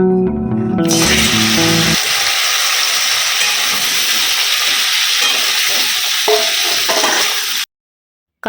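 Potatoes, onions and flower buds frying in hot oil give a loud, continuous sizzle and hiss with occasional stirring scrapes, following a brief burst of music at the start and ending abruptly.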